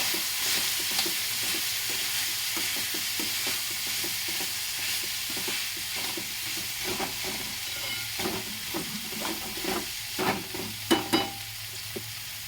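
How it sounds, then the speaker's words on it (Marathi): Vegetables and spices frying in oil in a pan on low heat are stirred with a utensil, giving a steady sizzle under repeated scraping strokes that grow louder and sharper toward the end. "पूर्ण मसाला टाकलेला आहे, त्यामुळे आता मी पूर्णपणे मिक्स करून घेते."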